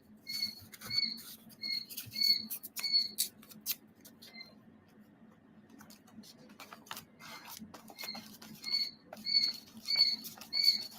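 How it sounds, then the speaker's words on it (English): A tiny bird chirps indoors in bright, repeated double-note bursts that come in clusters, with a pause in the middle and quiet rustling and tapping around it. "the little tiny bird you hear chirping is no bigger than this nori paste container"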